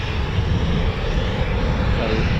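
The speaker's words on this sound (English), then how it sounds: "Typhoon there, beautiful, isn't it? Lovely aircraft." A Eurofighter Typhoon FGR4 jet flies a practice display at an RAF station, its engine a loud, steady, broadband roar that fills the whole moment.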